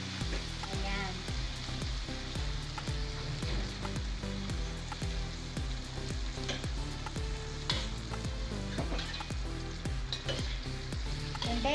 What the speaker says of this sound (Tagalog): Lagyan natin ng kaunting sabaw. Ayan.